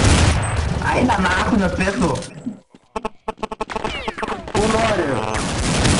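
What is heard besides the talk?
gunfire in a video game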